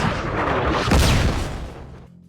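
A missile fired at a rooftop in a film lands as a heavy, rumbling blast that swells and rolls on for about two seconds before cutting off abruptly.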